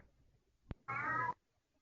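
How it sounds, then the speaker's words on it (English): A single short cat meow sounds clearly in a quiet room, preceded by a brief click, with no talk over it. "Is that my cat you hear meowing?"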